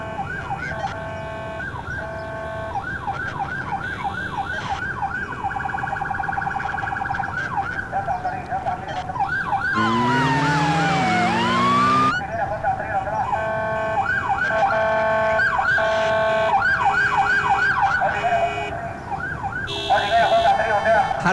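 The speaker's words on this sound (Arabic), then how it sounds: "معلش يا فندم الاسعاف فيها حالة حرجة" Ambulance siren wailing loudly and continuously throughout, with a second rising and falling siren tone sweeping in briefly midway, all over dense music-like background sound.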